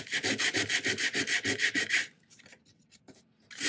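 Hand sanding of a shrink plastic jewelry piece, rapid rhythmic back-and-forth rubbing strokes, close and loud, then a few softer scattered scrapes.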